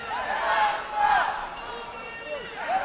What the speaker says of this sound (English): you can hear in full voices Ukraine's team all supporting each other